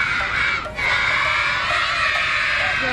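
A crowd of scouts at a camp event shouts and chants together loudly in a sustained, energetic burst of young voices, with a brief dip partway through.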